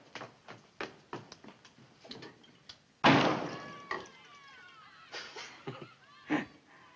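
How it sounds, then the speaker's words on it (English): A door slams shut once with a loud, sharp bang in the middle of an interior scene from a 1950 film, preceded by a few light knocks and movement sounds and followed by a quieter room. "don't slam the door on the way out"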